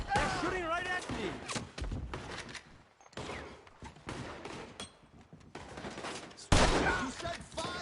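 Repeated gunfire from a shootout in Red Dead Redemption 2 cracks through the scene in bursts, loud and close, mixed with shouting voices and game dialogue that talks over much of it.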